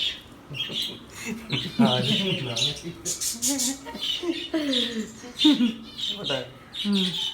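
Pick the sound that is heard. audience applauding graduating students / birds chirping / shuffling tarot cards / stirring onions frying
birds chirping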